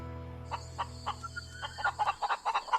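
A rooster calls with a string of clucks and short rising cries that build into a louder crowing burst near the end, close and clear after a low steady hum fades.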